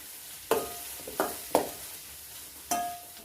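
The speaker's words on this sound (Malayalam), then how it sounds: "തേങ്ങാക്കൊത്ത് ചേർത്ത് കൊടുക്കാം ഇതെല്ലാം ഒന്ന് നന്നായിട്ടൊന്ന് മൂപ്പിച്ചെടുക്കാവേ" Coconut pieces and onions frying in a pan with a quiet steady sizzle, broken by four sharp stirring scrapes spaced about a second apart.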